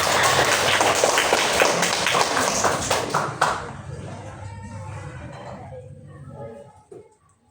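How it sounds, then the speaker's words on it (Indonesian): A classroom of students claps together for everyone in a burst of dense, fast claps that fade over several seconds, leaving quieter scattered noise and some talk. "Tepuk tangan untuk kita semua."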